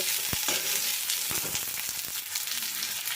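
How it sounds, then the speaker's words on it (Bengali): Potatoes sauté in hot oil with black cumin for a vegetarian drumstick curry, giving a loud, steady sizzle. A spoon stirs and scrapes against the pan in several sharp knocks, with no talking. "আলুগুলো আমি সামান্য একটু নাড়াচাড়া করে সাঁতলিয়ে নেব"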